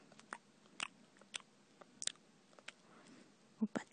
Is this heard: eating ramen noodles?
yes